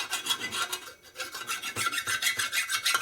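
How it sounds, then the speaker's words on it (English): A hand file rasps back and forth across the gasket surface of an S&S 113ci Harley Evolution engine, making close, steady rhythmic strokes with no talking. "I'm going to run a file across the gasket surface here"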